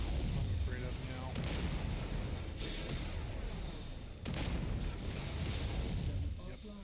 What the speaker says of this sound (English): Explosion detected.